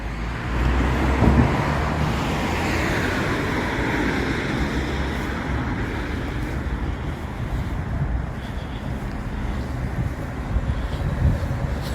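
A car pulls away and drives off along a UK roadside, a steady rushing engine and road noise that holds fairly loud throughout with some wind buffeting the microphone, no voices heard.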